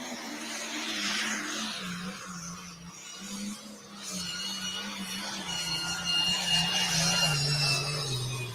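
A turbocharged pulling vehicle drives a sled down the track under boost, its engine droning loud and steady with a rising, straining note throughout, swelling further near the end.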